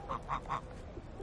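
Geese honk three times in quick succession, close and fairly loud, over a noisy outdoor background.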